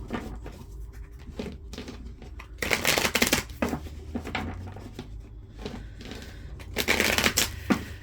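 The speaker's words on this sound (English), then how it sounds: "Let me shuffle quick." Tarot cards being shuffled by hand, a run of soft riffling and papery flutters with two louder bursts of rapid card slaps, close up and with no talking.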